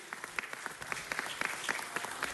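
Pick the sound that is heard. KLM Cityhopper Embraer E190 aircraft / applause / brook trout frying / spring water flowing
applause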